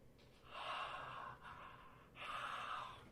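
A man demonstrating his breathing makes three long, loud, rasping breaths with short pauses between them, close and clear with no talk over them.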